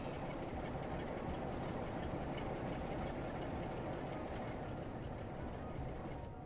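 A train running in the Train Sim World 4 video game, giving a steady, continuous rolling rumble with faint rhythmic clatter and no talking.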